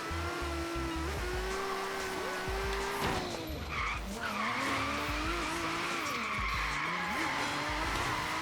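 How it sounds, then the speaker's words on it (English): A Datsun 240Z with about 290 horsepower drifts in the racing game Forza Horizon 3, its tires squealing in long, steady skids over a continuous engine drone, with a brief break partway through before the screech resumes. "Damn, this is even with 290 horsepower, you can drift this like cake actually"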